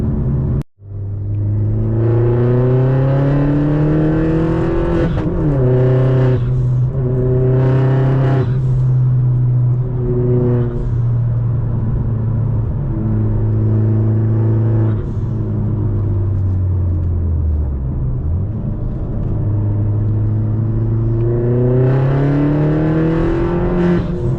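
A Vauxhall Corsa VXR hot hatch on Michelin Pilot Sport 5 tyres drives on the road, its engine giving a loud, close, steady drone that rises and falls with gear changes and revs.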